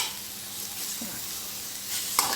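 Marinated pork fries in hot oil in a pan over low heat at home, giving a steady bright sizzle with crackles and a short clink of utensils near the end.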